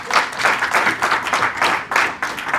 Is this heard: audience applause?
yes